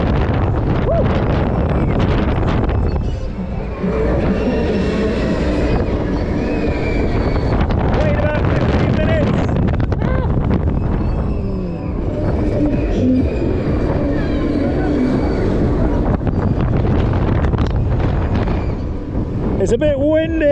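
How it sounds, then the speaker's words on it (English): Steady, heavy wind roar buffets the microphone throughout a ride on a booster at a fun park, with a constant loud rush and rumble that stays close and unbroken for the whole stretch. "It's a bit windy."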